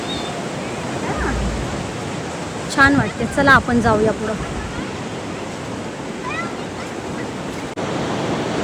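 Sea surf at Devbagh Beach, Malvan, where a lagoon meets the sea, forms a steady broad roar with wind buffeting the microphone, while a person speaks briefly over it.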